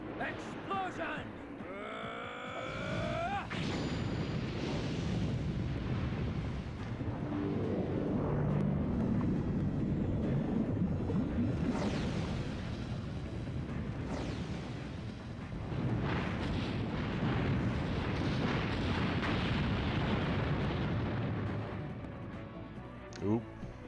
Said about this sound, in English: Yeah, I used Explosion, so we'll use Explosion again. It'll probably kill everything.